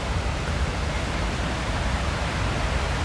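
A waterfall gives a steady, dense rumbling roar, loud and close, with an unbroken wash of noise and no voices.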